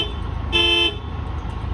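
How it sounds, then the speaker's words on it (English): A brief, bright honk from the horn of a classic bus at a New Jersey Transit historical bus lineup and parade, a single short toot lasting under half a second over low traffic rumble. "That's the horn. Sounds like a Volkswagen."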